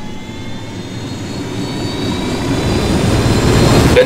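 An aircraft engine roars during flight in the video game Ghost Recon Wildlands. The loud, steady drone of jet or engine noise swells gradually over a few seconds and plays alone.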